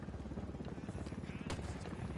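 Helicopter in the video game Ghost Recon Wildlands, a steady rotor thrum running loud and continuous through the whole stretch, with game voices and effects layered over it.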